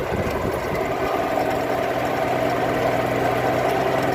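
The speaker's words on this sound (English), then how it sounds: "that's just on idle, the Royal. Got quite a bit of vibration already, moving quite a bit of air." A Royal drywasher engine idling with heavy vibration, a steady loud rumbling drone with a pulsing knock, close and continuous throughout, with no talk over it.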